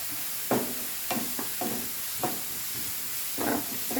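Onions, green chilies and mustard seeds sautéed over a high flame in a pan, with a steady hiss and sizzle punctuated by several brisk scraping stirs at irregular intervals.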